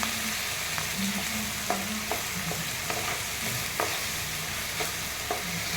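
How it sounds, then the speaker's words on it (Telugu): Curry leaves frying in oil in a pan, giving a steady, close sizzle with scattered crackles and stirring clinks running throughout. "సో కరివేపాకు కొద్దిగా ఇక్కడ వేస్తాము. దీంతో పాటు బాగా వేగాలి."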